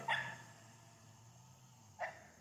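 Two faint, distant barks from a beagle puppy, one at the start and another about two seconds later, over quiet background hum.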